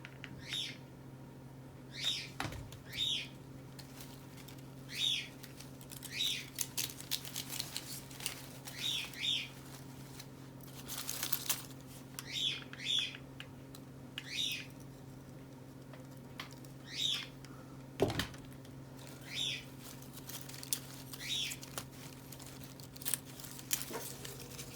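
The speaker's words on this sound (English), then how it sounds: "Sorry about Livia's bird." A pet bird close by repeats short, sharp chirps at irregular intervals against a steady low indoor hum, with a couple of brief soft thumps like wing flaps.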